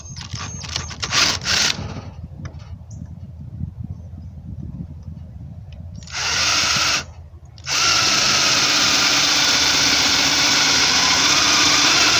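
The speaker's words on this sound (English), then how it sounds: "we'll go ahead and start drilling our holes" A power drill runs nearby, whirring and grinding through metal while drilling holes for a stove ring, stopping briefly, then spinning up again into a long steady high whine.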